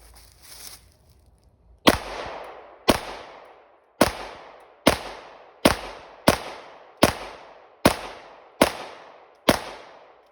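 A BCA bufferless 9mm fires from an Amend 2 magazine, nine sharp, loud shots evenly spaced about a second apart, each ringing out briefly before the next.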